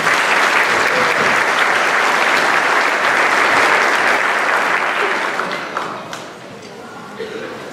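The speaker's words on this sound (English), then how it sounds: "So let's give a round of applause for Mr." Audience applause at a Penndale 8th grade winter concert, steady and dense crowd clapping for the music teacher that holds strong for several seconds before thinning out toward the end.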